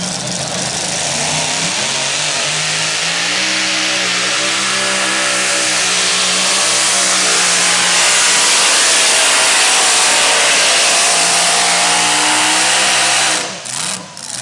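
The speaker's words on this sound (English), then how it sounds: "Larry Kester coming at you, a little tractor he calls Footloose." A small pulling tractor at the NTPA Power Pull Nationals 2019 roars under load, its engine climbing steadily in pitch into a loud, sustained rev, then cutting off abruptly near the end.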